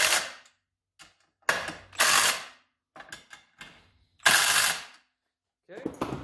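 A ratchet wrench clicks on an Arctic Cat ZR 800 snowmobile, with several sharp bursts of ratcheting separated by short silences, close and loud.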